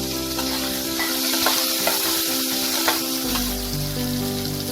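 Diced brinjal frying in a pan after being added, giving a dense, steady sizzle and crackle that shifts tone partway through, close and constant with no talking.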